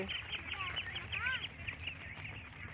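Ten-day-old Champa ducklings, a flock of about 400 on a duck farm, give repeated high thin chirps, fairly close and steady, with a voice speaking faintly alongside.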